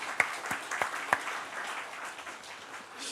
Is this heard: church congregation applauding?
yes